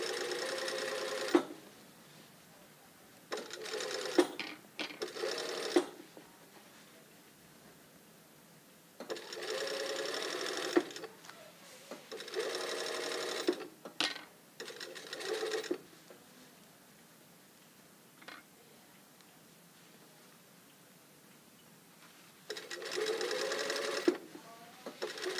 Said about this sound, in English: And now I can stitch from this pin. Exactly from that pin, back tack a few times